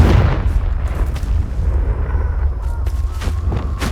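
A Confringo spell explosion in the video game Hogwarts Legacy opens with a loud, deep boom, then a rolling low rumble lingers for several seconds, broken later by a few sharp crackles.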